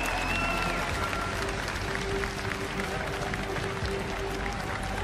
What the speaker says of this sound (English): on applaudit encore une fois toutes ces équipes représentants de la LPL